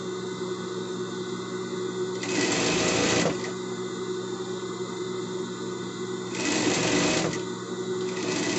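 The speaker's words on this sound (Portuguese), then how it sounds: "Passar na overlock aqui e já volto." An overlock serger sewing machine runs steadily and loudly at close range while stitching fabric, with two brief bursts of harsher, louder whirring as it speeds up during the run.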